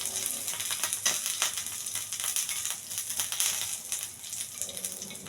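Curry leaves and garlic sizzle steadily in hot oil, a close, continuous crackling fry with sharp pops scattered throughout and no voices.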